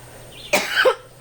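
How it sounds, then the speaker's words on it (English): A single close, rough cough bursts out once, followed by a brief throaty rasp, against quiet background hum. "I'm going to cough."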